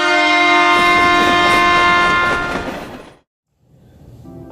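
A train horn blasts loudly for about three seconds over a rumbling passing train, then fades out abruptly into near silence before a brief noise at the end.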